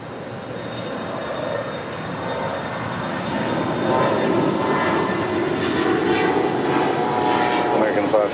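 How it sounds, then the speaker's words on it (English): An Air Canada Airbus A330-300 jet at LAX gives off a loud, steady engine roar that slowly builds and holds, with a thin whine on top and radio-style talk faintly underneath. "Air Canada Flight 774 heading to Montreal and an"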